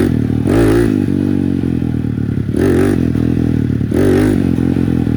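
A tuned Bashan BS250 quad bike with a ported engine and PWK30 carburetor revs hard in first gear, its loud, rough engine note surging in three distinct bursts close to the listener.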